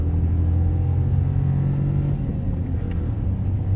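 A Seat Leon 1.0 accelerates uphill on a snowy mountain road at minus eleven degrees, its engine a steady, loud, low rumble heard from inside the car.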